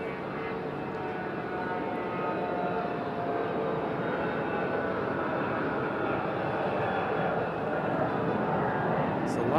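Copa airliner taxiing toward the runway end at Raleigh-Durham International Airport, a steady distant engine roar and whine held throughout with a voice talking over it.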